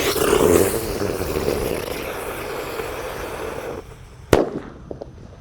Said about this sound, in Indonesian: di sini ada mercon teratetor. Kita nyalakan, kita masukkan ke dalam tanah.